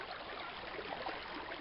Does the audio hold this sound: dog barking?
no